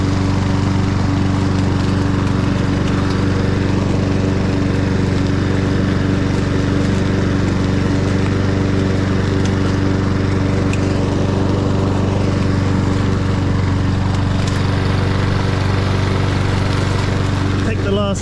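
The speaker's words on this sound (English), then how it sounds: "Take the last little bits up with the mower, if there are any around." A lawn mower runs continuously in a city garden, its engine a loud, close, steady drone with a strong buzzing hum that holds unbroken from start to finish.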